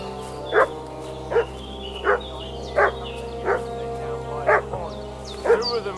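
A dog barks repeatedly in the Kingdom Come: Deliverance 2 video game, seven or so evenly spaced barks at a moderate distance over a steady low ambient hum, with faint bird chirps near the end.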